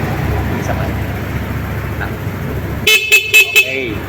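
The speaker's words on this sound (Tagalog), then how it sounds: "Ito malakas yung busina niya." A EuroMotor Griffin 180i scooter's horn gives four quick, loud, evenly spaced toots after a stretch of low background noise.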